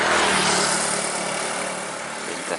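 A Putra Pelangi bus on the Medan–Padang run rolls along a long stretch of road, giving a steady, dense engine and road roar that fades a little toward the end, with no voices.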